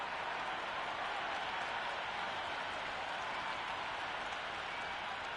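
A dense stadium crowd in the Cricket 26 video game cheers and applauds in a steady, unbroken roar before the first ball of an India vs Pakistan T20 warm-up in Dubai.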